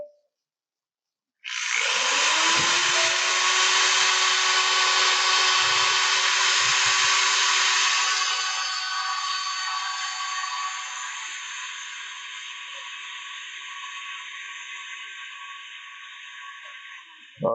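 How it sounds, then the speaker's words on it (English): A power sander spins up against a wooden candy dish turning on a wood lathe, a loud steady whirring grind that starts abruptly after silence and gradually eases as it runs on, with no talking. "It's a little too fast for our sander."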